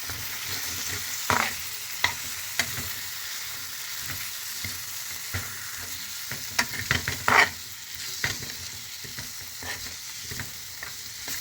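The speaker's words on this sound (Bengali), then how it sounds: "এবারে মশলাটাকে ভালো করে আমাকে কষতে হবে।" Spice masala stir-fried over high heat in a pan for an Indian potato and cauliflower curry, with a steady sizzle and repeated scraping clinks of a spatula, no voices.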